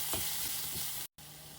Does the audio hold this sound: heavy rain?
no